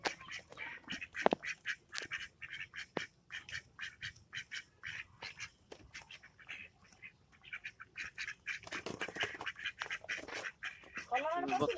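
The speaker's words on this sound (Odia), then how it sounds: "ବତକ ସବୁ ପଶିଗଲେଣି" Ducks quack repeatedly in short, overlapping bursts as they go into their shed in the evening, close by, with people talking over them.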